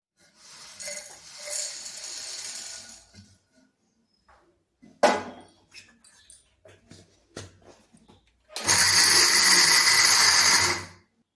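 A kitchen grinder pulverises chickpeas for sattu laddu in two loud whirring bursts of a few seconds each, separated by quieter clattering and handling noises.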